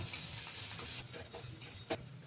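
Grated ginger, garlic and chopped chilli fry in hot oil, a faint steady sizzle with soft stirring scrapes, close but quiet.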